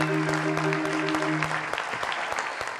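Applause from an audience at a lively Ivorian gathering, steady clapping at moderate distance with a few sharper individual claps, under a held musical tone in the first half.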